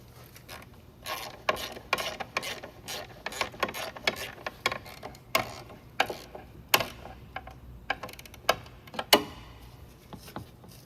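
Bolt for a brake line bracket on a 1996–2007 Dodge Grand Caravan 3.3L being driven in with a ratchet, a run of sharp irregular clicks and ticks close by with no talk.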